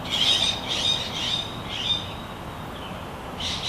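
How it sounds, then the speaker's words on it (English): Several birds calling outdoors in the morning, sharp high squawking calls arriving in bursts at irregular intervals, fairly near and clear over a quiet background hiss. "Quite a lot of birds this morning."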